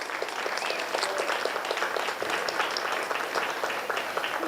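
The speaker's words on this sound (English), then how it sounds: "So please give Coach Pruitt a big round of applause." Audience applause for a wrestling coach being honored at a community gathering, dense and sustained clapping from a sizable indoor crowd, fairly loud and even from start to finish.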